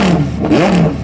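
A supercar engine revving hard as cars leave a car show, with a rising and falling exhaust roar heard close and loud for about a second.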